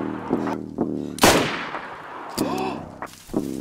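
Gunfire in DayZ, several sharp shots cracking out at irregular intervals, one especially loud close blast followed by a decaying echo, with more distant pops around it.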